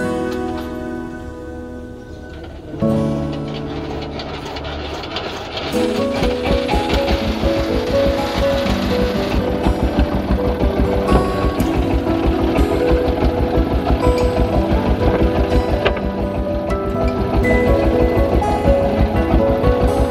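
A boat engine sputters as it starts, then settles into a loud, steady rhythmic chugging that runs on continuously, close by, with water sounds underneath.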